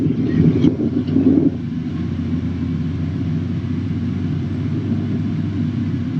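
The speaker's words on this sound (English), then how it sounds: "I can continue just to dump that bucket out, and I'm assured that that is now accounted for in that truck load" A Caterpillar wheel loader running with its payload scale in tip-off disabled mode dumps its bucket into a truck. A brief louder clatter comes first, then a steady, low diesel engine rumble continues alone.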